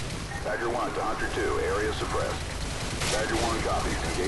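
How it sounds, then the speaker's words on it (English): Modern Warfare 2 gunfire during a mission on Veteran difficulty, dense continuous rattling shots amid battle noise, with someone talking over it throughout. "I got shot from behind somewhere."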